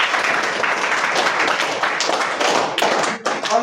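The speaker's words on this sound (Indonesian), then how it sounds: "tepuk tangan untuk Nona" A classroom breaks into applause for a student: many hands clapping in a dense, lively burst for several seconds, with a few louder claps near the end.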